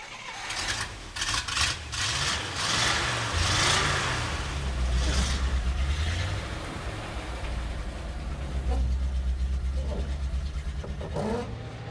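Dodge D100 pickup truck with a V8 engine driving, a steady low engine drone rising and falling with throttle, rumbling close throughout with faint road noise.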